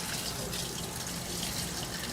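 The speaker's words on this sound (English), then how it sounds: "I'm gonna go take him to the sink and give him a rinse" A whole fish with gills removed is rinsed under a running sink tap, a steady close rush of water with no break throughout.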